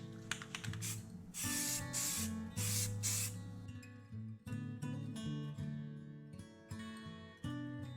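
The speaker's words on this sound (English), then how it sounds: "I'm going to go ahead and primer this thing all the way around, put a layer of primer on there so that I can paint it" Primer is sprayed from an aerosol can onto a custom snow globe mount in several hissing bursts up close, the first few long and loud, then shorter spurts, all set against a tonal music bed.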